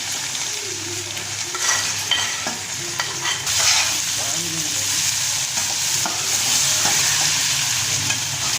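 Chopped green chilies go into stuffed okra frying in a pan, giving a steady loud sizzle with stirring scrapes and clinks over it and a brief burst as they hit the oil; no talking.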